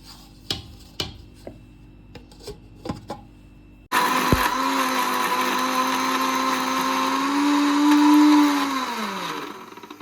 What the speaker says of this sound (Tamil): நம்ம மிக்ஸி ஜாடியில் போட்டு அரைச்சி எடுத்துக்கலாம்